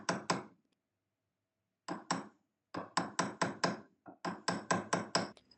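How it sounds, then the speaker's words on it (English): Wire earrings struck with a hammer on a metal mandrel for texturing jewelry, sharp ringing metallic taps close by, first a pair, then a pause, then rapid bursts of evenly spaced blows. "I'm going to move the camera closer to show you how I hammer these wire earrings one by one."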